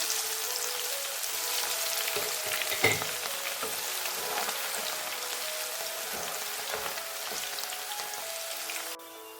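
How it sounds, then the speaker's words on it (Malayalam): Garlic frying in coconut oil over low heat with curry leaves: a steady, dense sizzle that holds for about nine seconds, with a brief louder crackle near the middle, before dropping off at the very end. "കുറച്ച് വെളുത്തുള്ളി വറുത്തെടുക്കാം."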